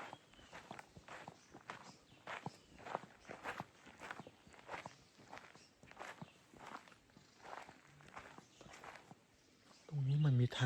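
Footsteps of someone walking on an upper floor indoors, a long run of regular thumping steps at moderate distance, with a louder burst of other sound at the very end.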